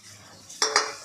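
Ground spice paste is added to mixed vegetables in a cooking pan for a winter vegetable dish, with two quick, close metallic clanks of a spoon against the pan over a soft sizzle.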